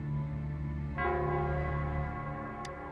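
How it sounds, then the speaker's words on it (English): Square bell in the Wuthering Waves video game: a single deep, resonant bell strike with a long ringing decay over a sustained low drone, no talking. "it's the Nell Squares bell."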